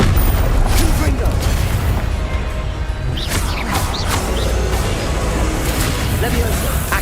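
Incendio and Confringo spells are cast in Hogwarts Legacy, with dense overlapping whooshes, fiery bursts and impacts under ongoing combat noise, and a voice talking through it.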